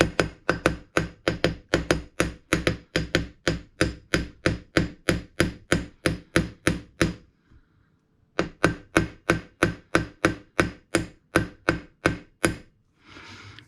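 Rapid, evenly spaced hammer blows strike a Briggs and Stratton engine part from a hard-to-start John Deere. The close, loud metallic knocks run in a steady rhythm of about three per second, pause briefly midway, then resume, with no talking.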